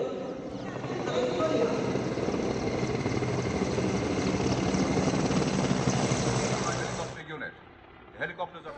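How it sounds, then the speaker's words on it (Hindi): A formation of Army Mi-17 helicopters passes over Rajpath during the Republic Day parade rehearsal. Their loud, steady rotor and engine roar lasts about seven seconds, then cuts off abruptly, leaving faint background sounds. "आज सेना के हेलीकॉप्टरों का एक बेड़ा राजपथ के ऊपर से गुजरता हुआ देखा गया"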